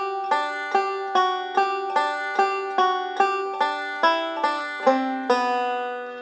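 Banjo picking the opening two measures of the fiddle tune Devil's Dream in G, a steady run of bright plucked notes descending the scale, close and clear with no voices.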